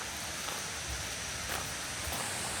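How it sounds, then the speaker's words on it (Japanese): A river flowing in a remote rural spot in Tottori Prefecture, Japan, reached by a narrow path beside houses: a steady, dense rush of water that stays constant and fairly close, with no voices. "もう川の流れる音が聞こえてきました。"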